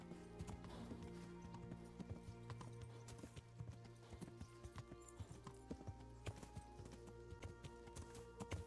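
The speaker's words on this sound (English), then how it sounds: "I do need to slow down a bit with the horse." A horse's hooves walk at a steady clip-clop along a trail in the medieval video game Kingdom Come: Deliverance, over a low ambient game soundscape.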